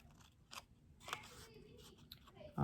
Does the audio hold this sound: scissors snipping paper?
yes